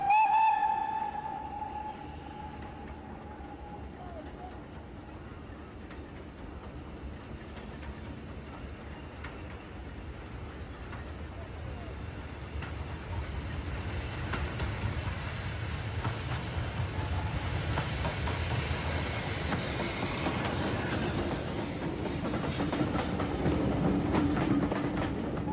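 British steam locomotive 80079 opens with a clear whistle, then the train rumbles and clatters past. The rolling noise grows louder and closer over the following twenty seconds.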